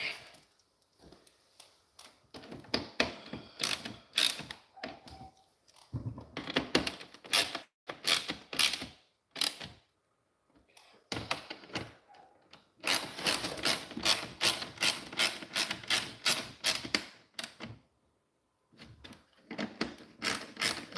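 A quarter-drive ratchet snugs down front bumper bolts on a 2012 Chevrolet Malibu, rapid clicking bursts of pawl ratcheting in repeated runs separated by short pauses, close and fairly loud.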